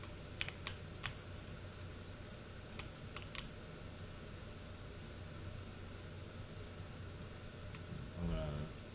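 Computer keyboard key presses during 3D modeling, a few faint scattered clicks and taps over a hissy background, quiet and sparse, with a louder shuffling thump near the end.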